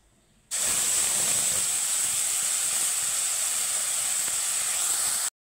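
Spice paste hits a pan of fried gram flour with a sudden loud sizzle that holds as a steady, bright hiss for several seconds, then cuts off abruptly.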